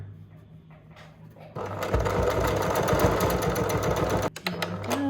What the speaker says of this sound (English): we're just gonna put this back under our machine and just continue sewing our binding on